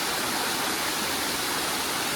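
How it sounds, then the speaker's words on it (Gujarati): Khuniya Mahadev waterfall at Pavagadh pours in a steady broadband hiss of falling water, fairly faint and continuous with no voices. "ખૂણિયા મહાદેવ ધોધ જાય છે"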